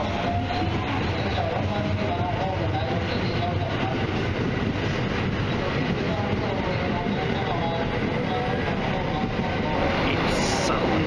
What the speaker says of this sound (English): It's so noisy here, it's unbelievable, but that's the train I'm getting.